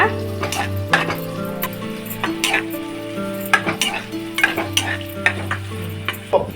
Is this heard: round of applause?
no